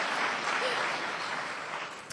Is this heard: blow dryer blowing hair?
no